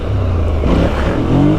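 Can-Am Renegade 1000 ATV engine in performance mode, a loud, steady close-up motor drone that swells into a brief rev toward the end, with no voices.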